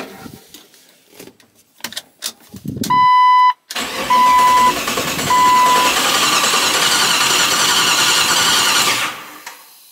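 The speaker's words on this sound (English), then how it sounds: "Let's see if it'll crank." A Jeep TJ with a 5.2 V8 swap cranks in short bursts and then fires, the engine catching and settling into a loud, steady idle close by for several seconds before cutting off.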